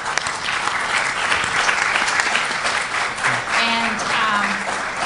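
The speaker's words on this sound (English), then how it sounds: "let's give them a big round of applause" Conference audience gives panelists a big round of applause after a housing tax credits session: sustained, dense clapping from a crowd lasting several seconds, with a few faint voices underneath.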